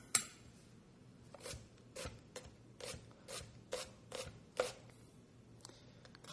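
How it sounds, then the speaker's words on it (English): Knife chopping half a medium onion finely on a board: about a dozen crisp, evenly spaced cuts in an irregular rhythm, close and moderately loud over a quiet room, with no talking. "Then I'm going to take half a medium onion and chop that up fine."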